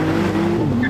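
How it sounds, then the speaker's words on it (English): A Porsche 911 Turbo launches in a drag race, its engine a loud, close, sustained roar with a rising tone and some tire noise, lasting under a second. "Are you ready for this drag race?"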